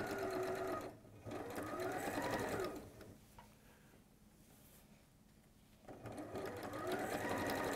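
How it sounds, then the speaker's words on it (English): Sewing machine stitching fabric for hand-pieced quilting, rapid mechanical whirring in bursts, a close, steady run, then a quieter pause before stitching resumes. "How close to the edge are you sewing?"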